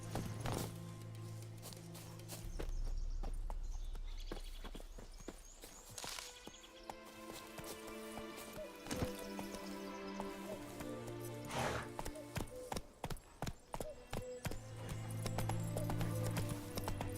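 Horse hooves clip-clopping in The Witcher 3, a steady close rhythm of hoofbeats on hard ground that continues through the whole passage, with no speech.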